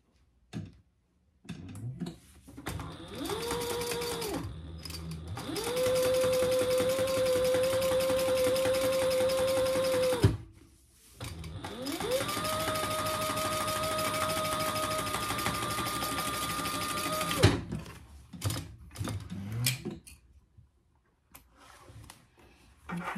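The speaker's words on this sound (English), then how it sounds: "Top stitching, so check your bobbin." A sewing machine top-stitches a handbag in two long runs, each motor spin-up settling into a steady, loud whirring hum before stopping, with a short quiet gap and small handling clatter around them.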